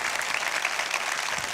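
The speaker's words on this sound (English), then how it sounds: "Can we give Dr. Stripling a huge round of applause?" A seminar audience applauds Dr. Stripling, a dense, steady wash of clapping running evenly throughout at moderate volume with no talk over it.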